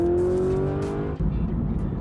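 A supercharged Cadillac Escalade with a heads-and-cam build downshifts and accelerates hard, its engine note sweeping up loud and close for about a second before a brief shift dip and renewed roar.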